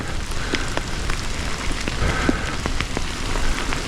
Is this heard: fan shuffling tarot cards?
no